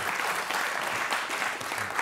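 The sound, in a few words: audience applause for lecturer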